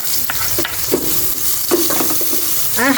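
Onions frying in oil in a smoking-hot casserole pot, a steady bright sizzle with stirring scrapes throughout, close and fairly loud with no talk.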